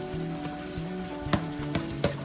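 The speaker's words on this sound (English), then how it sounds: "we're using peanut oil today for frying our fish." Pieces of fish frying in peanut oil at 350 degrees, a steady close crackling sizzle with a few sharper pops and spits spaced through the short stretch, no talking.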